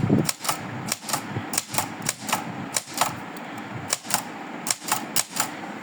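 Antique typewriter typing with the shift lock on for capital letters: sharp, distinct key strikes in an irregular rapid rhythm, close and fairly loud, with no voices.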